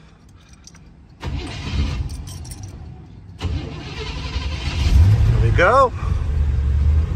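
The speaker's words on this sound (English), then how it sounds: "Get in the car now and start it up for you." A 1940 Ford Deluxe Tudor sedan engine cranks and fires up nearby, a short grind followed by a catch and a louder rising rev before it settles into a steady idle, with a brief spoken word at the start.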